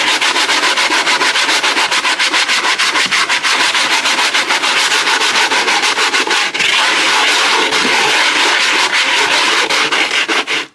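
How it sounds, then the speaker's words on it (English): Sanding block scraping back and forth over a surface while restoring a conservatory in an old house, loud, close and continuous, with dense rapid rubbing strokes and no voices. "Let's try the sand block."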